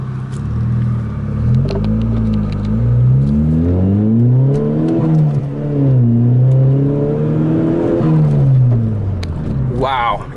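A Volkswagen GTI turbo accelerates on the road, its engine rising through gears in swelling, falling revs heard from inside the car, close and loud, with someone talking over it.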